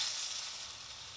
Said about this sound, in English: It should sizzle like that